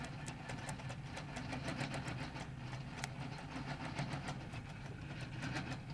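A domestic sewing machine stitching slowly through a quilt guided by a ruler makes a steady, faint mechanical whirr with a fine rapid needle rhythm that runs unbroken and alone.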